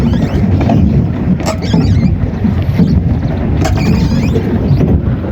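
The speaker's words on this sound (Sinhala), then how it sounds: "හංස බෝට්ටු" A swan-shaped pedal boat moving across Sembuwatta lake, with steady water churn and wind rumble close to the microphone and a few faint splashes and knocks.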